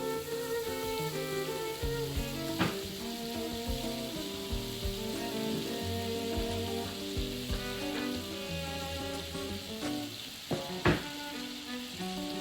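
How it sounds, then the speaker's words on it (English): Butter sizzling and frying in a hot skillet for a breakfast potato hash, a steady crackle running throughout with a few sharper pops and no talking, over background music. "get your skillet nice and hot. Drop down that butter."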